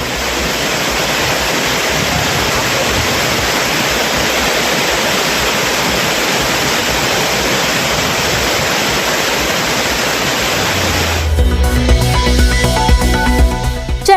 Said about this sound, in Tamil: குற்றாலத்தில் அனைத்து அருவிகளிலும் வெள்ளப்பெருக்கு.